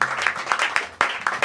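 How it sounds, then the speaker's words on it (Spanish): An evangelical church congregation gives a short burst of applause, many hands clapping together in quick, dense pulses that fill the room. "Un aplauso a Jesús."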